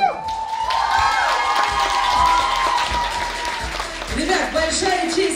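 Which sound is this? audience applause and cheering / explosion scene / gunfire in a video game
audience applause and cheering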